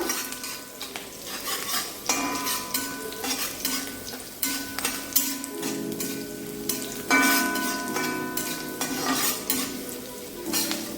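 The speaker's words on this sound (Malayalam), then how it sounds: "ഇതൊരു 1 മിനിറ്റ് വഴറ്റിയതിന് ശേഷം നമുക്ക് ബാക്കിയുള്ള പച്ചക്കറികൾ ഇട്ട് കൊടുക്കാം" Vegetables sauté over high flame in a pan for restaurant-style chicken fried rice, with chopped carrots and beans added: a constant close sizzle broken by repeated scraping and stirring strokes and metal clinks of the utensil.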